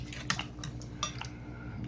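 Dishes and cutlery clink in a home kitchen as sinigang na baboy and rice are served onto a plate: a few scattered, fairly faint taps and scrapes over a low steady background hum.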